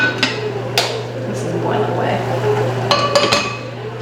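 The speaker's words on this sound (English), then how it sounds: "I got a few dishes here I'm gonna wash" Dishes being washed clink and knock against each other in scattered sharp hits over a steady low hum, close by, with a person talking briefly between the clatters.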